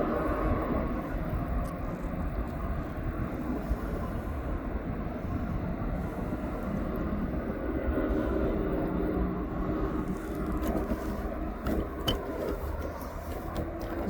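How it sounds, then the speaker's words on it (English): An empty Jet2.com airliner on approach to land at East Midlands Airport gives a broad, steady roar that swells and fades slightly over several seconds, heard from a distance. "So the aircraft that's coming in is empty"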